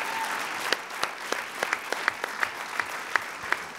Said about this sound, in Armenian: Նրանց այս ծափահարությունները